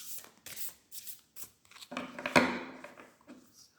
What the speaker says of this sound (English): I will just shuffle the cards a little bit